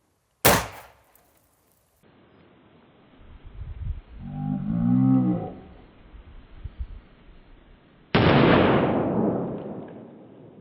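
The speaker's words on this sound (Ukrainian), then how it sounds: "Ударною трубкою без детонатора можна підірвати пітарду або порох." A firecracker set off with a non-electric shock tube: a sharp initial crack, a muffled rumbling pop a few seconds later, then a loud burst that tails off into lingering noise, heard outdoors with no talk.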